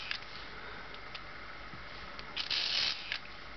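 A Curta 'pepper grinder' mechanical calculator is cranked through a subtraction, its gears and pawls giving a brief close mechanical ratcheting whir with a louder grinding burst near the end.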